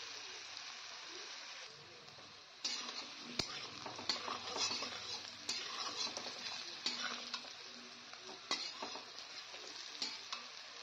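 Potato pieces frying in a pan and being stirred, with a steady sizzle and repeated scraping, knocking strokes close by, no voices.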